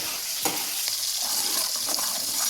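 Sliced onions fry in oil in a pan, a constant close crackling sizzle with a few soft scraping stirs from a spatula, no voices.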